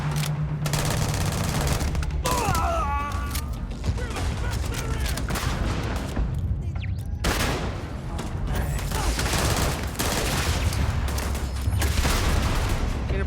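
Heavy explosive 40mm rounds from a Bridger weapon in Starfield fire in a dense, sustained barrage of blasts and gunfire, loud and continuous throughout, with faint voices under the noise.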